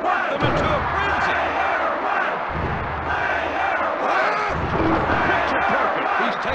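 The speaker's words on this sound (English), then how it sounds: "Listen to this capacity crowd. Player one just worked them into a frenzy." A capacity arena crowd roars and cheers continuously in the WWF Warzone wrestling video game, loud and dense throughout, with thuds and a commentator's voice mixed in.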